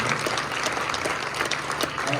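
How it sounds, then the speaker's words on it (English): An audience at a talk by a past Navajo Nation president applauds veterans in attendance, dense, continuous clapping filling the whole short stretch. "Let's give them a big round of applause."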